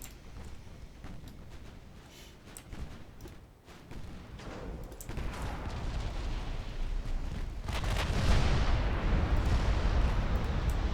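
Naval guns aboard Ultimate Admiral Dreadnoughts warships fire with heavy booms and rolling rumbles that build into loud, continuous thunder toward the end, with no talk over them.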